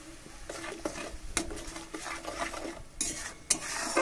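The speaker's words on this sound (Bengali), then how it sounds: "মশলা খুব ভালো করে কষিয়ে নেব" Spice paste with salt, turmeric and a splash of water sautéing in a pan for egg curry, a soft sizzle under repeated scraping and clinking stirring strokes, close and fairly quiet, no voices.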